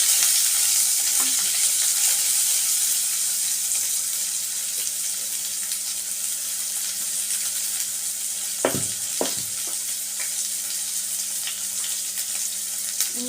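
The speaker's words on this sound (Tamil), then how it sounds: "வெங்காயம் நல்லா வதங்கட்டும்." Onions sautéing in a pan for mutton kulambu, a steady soft sizzle throughout with a couple of brief clinks or stirs midway.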